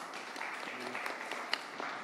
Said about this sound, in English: So first, a huge round of applause for them.